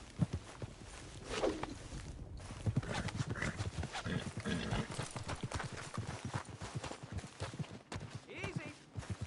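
A horse walks with steady clip-clopping hooves close by, a rider urging it along and people talking throughout.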